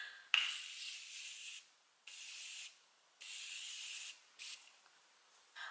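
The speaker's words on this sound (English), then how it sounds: "I'm using my Morphe Continuous Setting Spray" Morphe Continuous Setting Spray is misted onto a face in four or five close, hissing bursts. Short pauses separate the bursts, and a faint click comes at the first press.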